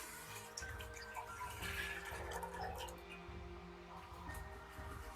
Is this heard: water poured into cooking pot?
yes